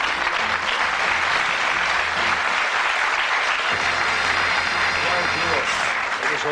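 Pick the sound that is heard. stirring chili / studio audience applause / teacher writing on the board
studio audience applause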